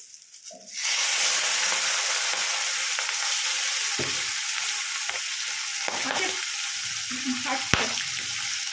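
Fish oil with five-spice and dry red chilli hits a hot pan after a brief quiet start, then sizzles loudly and steadily, with a few scrapes and clicks of stirring.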